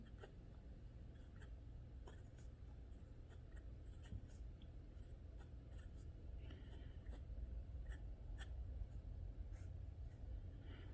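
A Moonman (Majohn) Q1 fine-nib eyedropper fountain pen scratches steadily across Rhodia paper in quiet, close strokes with soft ticks, otherwise near silence.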